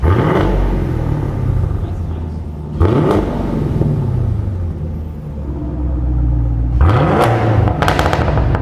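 A Cadillac CT5-V Blackwing fitted with an AWE SwitchPath exhaust revs hard several times, each loud, throaty rise falling back to a deep rumbling idle, with a crackle at the end.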